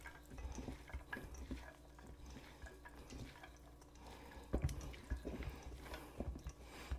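Ahi poke being stirred together with sesame oil and soy sauce in a bowl, with soft wet clinks and scraping of a utensil against the dish, irregular and close, and no talking.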